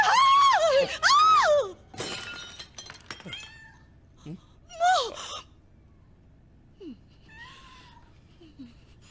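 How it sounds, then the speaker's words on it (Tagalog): Several loud, rising-and-falling cat meows from a video game open the sequence, followed by crashing, clattering sounds and a few fainter, shorter kitten mews against a quiet background. "Papalapit na sa akin yung pusa! Ayan na siya!"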